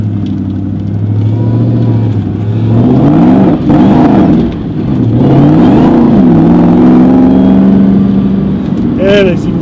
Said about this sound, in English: we're gonna see how 740 horsepower feels. So let's take off.